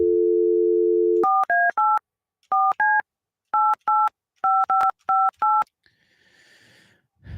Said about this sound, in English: Let's call Mr. Ness here